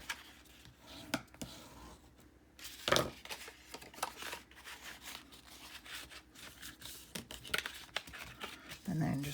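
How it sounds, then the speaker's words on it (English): Paper for a paper bag mini album is creased and folded along score lines. It gives soft crinkles and rubbing, a sharp crackle near the middle, and more handling rustles, with quiet talk in places. "I'm just gonna kind of stand my paper up and fold over on those other score lines"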